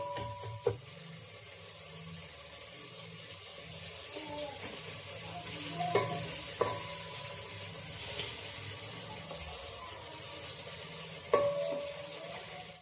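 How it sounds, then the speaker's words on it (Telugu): Chicken being stirred with chili powder, turmeric and salt in a pot, a steady scraping and mixing with a few sharp clinks of the utensil against the pot, close by. "కారం వేసేసుకొని మొత్తం ఈ విధంగా కలిపేస్తున్నాం కదా."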